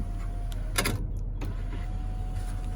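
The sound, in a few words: sunroof of a 2017 Chevrolet Silverado operating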